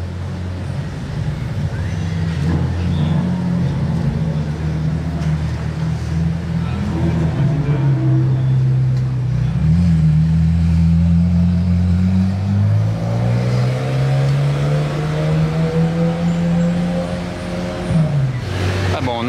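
A McLaren Senna supercar drives past in Monaco, its engine note swelling loud and climbing through revs before fading, with people talking over it.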